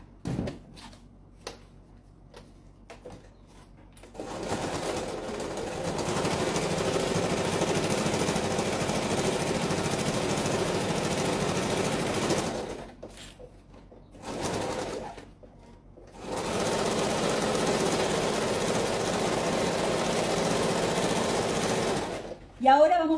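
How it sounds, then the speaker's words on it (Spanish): A sewing machine stitching the side seams of a folding fabric purse runs in long, steady mechanical bursts separated by short pauses, with brief handling noises and a voice at the start. "Cosemos este lateral y este otro lateral"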